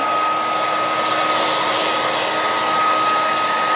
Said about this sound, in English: I really like the hair dryer for the Art-dirty